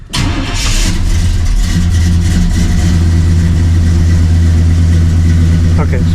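Blueprint Engines 350 V8 cranking briefly and catching, then settling into a loud, rumbling idle close by.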